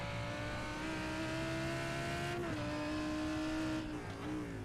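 A high-revving V10 race car engine screams steadily from on board at Daytona, its pitch holding high with brief dips at gear changes.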